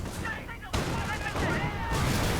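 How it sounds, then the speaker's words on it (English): An Ostwind flak tank in a video game fires at riflemen, producing dense, continuous bursts of rapid cannon fire with overlapping booms, loud and near, while a commentator talks over it. "the Ostwind moving in, trying to catch the rifleman. Blasting away, in fact, even getting a few kills."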